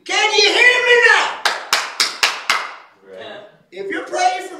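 A short burst of several sharp claps from a church audience, loud and close, sits between stretches of someone speaking and shouting.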